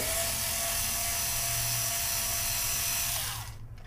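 Screws being backed out of a guitar's back cover make a steady, close, high-pitched whirring whine that runs without a break and then cuts off near the end; no one speaks.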